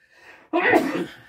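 One sharp sneeze bursts out close by, preceded by a faint intake of breath in a quiet indoor room.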